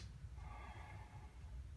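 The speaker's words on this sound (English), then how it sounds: "once you get good at that, we practice it with a fast inhalation" A single fast inhalation during a deep belly breathing exercise, a quick, close, breathy sniff lasting about a second amid quiet room noise.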